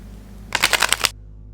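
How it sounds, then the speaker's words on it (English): Tarot cards riffled in a quick burst of crisp, fluttering shuffle, close and fairly loud, lasting about half a second against a low background hum, with no one talking. "We're going to shuffle your cards"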